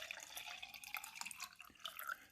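A Walmart Mainstays single-serve dual brew coffee maker drips and trickles 14 ounces of water into a travel mug, a faint, steady liquid patter with small splashes throughout.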